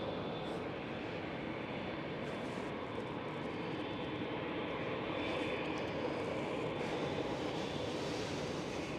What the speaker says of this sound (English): E175 departure, runway 24.